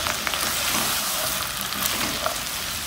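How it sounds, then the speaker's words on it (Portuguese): Minced garlic cloves and chopped onion sauté in a hot pan, giving a steady, close, dense sizzle that holds evenly throughout with no one talking. "Agora a gente vem aqui com dois dentinhos de alho picadinho e uma cebola picada. Vou deixar dar uma refogadinha aqui"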